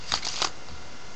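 A freshly shuffled deck of playing cards riffles in two quick bursts close by, a crisp flutter of card edges, then quiet.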